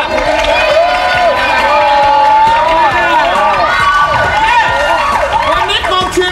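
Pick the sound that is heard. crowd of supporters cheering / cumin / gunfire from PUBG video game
crowd of supporters cheering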